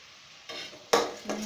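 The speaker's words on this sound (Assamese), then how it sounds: "ভালকৈ লৰাই ল'ম।" Spoon stirring pumpkin and paneer curry with cumin powder and garam masala in a frying pan, soft scraping strokes over a gentle sizzle, louder bursts near the end.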